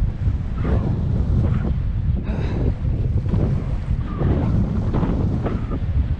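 Steady, gusty wind buffets the microphone during kitefoiling for the whole clip, a heavy low rumble with no voices.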